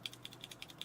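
A Cherry black mechanical keyboard switch pressed repeatedly on a switch tester, giving about ten quick, faint, close clicks in an even rhythm with nothing else heard.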